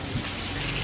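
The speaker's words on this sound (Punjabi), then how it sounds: "ਮੀਂਹ ਬਹੁਤ ਪੈਂਦਾ ਪਿਆ" Heavy rain pours steadily at a cricket ground during a final match in Shimla, a dense, close hiss of drops on surfaces with no pauses and no voices.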